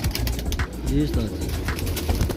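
Neel Dumba pigeons give a short cooing call at close range against a busy background of voices and other noise.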